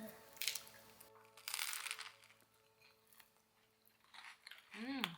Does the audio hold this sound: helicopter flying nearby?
no